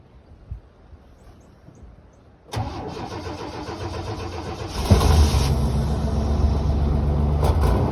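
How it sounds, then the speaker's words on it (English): A 1990 Chevy C10 truck engine cranks from cold, catches with a sharp jump in loudness and settles into a rough, steady idle, recorded close in windy outdoor conditions. "I'm gonna do the first ever cold start on it."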